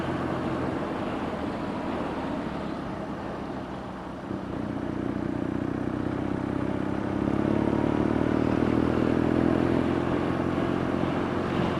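BMW R Nine T Scrambler motorcycle riding on a wet, rainy road, a steady engine drone that swells and rises in pitch as it accelerates, heard close with constant wind and road roar, no speech.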